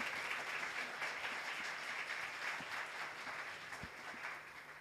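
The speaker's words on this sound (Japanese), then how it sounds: "参加者の方は大きな拍手をお願いいたします" Sustained applause from a conference audience after a talk at PyCon APAC 2023, a dense, steady wash of clapping that fills the room and eases slightly toward the end, with no voices.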